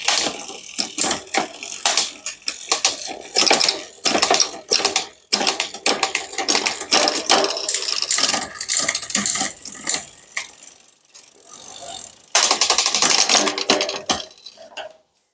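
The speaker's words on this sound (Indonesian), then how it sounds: "Kita tes untuk shifting sekarang." A bicycle's rear derailleur shifts through the gears after a new shifter cable is fitted, with busy metallic clicking and chain rattle close by over spinning drivetrain, no talk.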